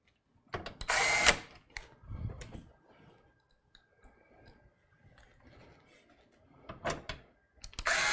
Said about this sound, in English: Now I can put these screws back in.